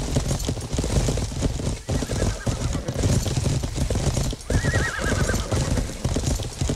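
A horse in the medieval video game Life is Feudal whinnies twice over a steady, fast clip-clop of galloping hooves that runs loud and close throughout.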